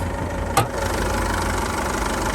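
A 2017 Isuzu D-Max SX 4x2 single-cab ute idles steadily with a continuous low engine hum, joined by one brief sharp tick partway through.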